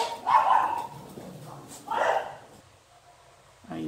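Two bursts of dog barking, near and fairly loud, with a short yip toward the end, heard in a home during a crochet rug session.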